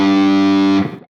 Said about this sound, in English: I recommend bending the string down like this.